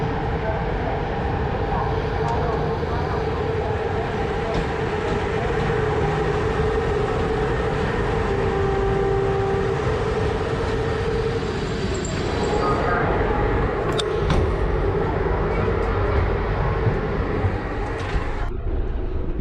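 Passenger sleeper train running, a steady loud rumble and rattle heard from inside, with a faint tonal hum and a few clunks and knocks near the end.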